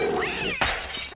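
A cat yowls in drawn-out, wavering cries, then a sudden sharp crash cuts in, loud and close, in a brief burst.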